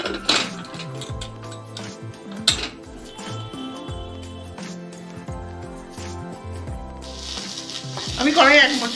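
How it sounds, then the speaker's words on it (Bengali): Ginger, garlic, onion and green chili fry in ghee in a kadai, a soft continuous sizzle with occasional clinks and stirring of utensils, growing louder near the end. "আমি কড়াই 1 চামচ ঘি দিয়ে আদা, রসুন, পেঁয়াজ, কাঁচা লঙ্কা দিয়েছি।"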